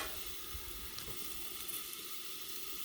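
Country-style pork ribs sear on a Blackstone griddle, giving a constant hissing sizzle at moderate volume, steady and close with faint spatter pops and no voices.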